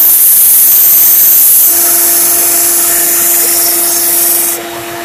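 A machete blade being sharpened gives a loud, steady abrasive hiss with a faint tone running under it, continuous and close, easing slightly near the end.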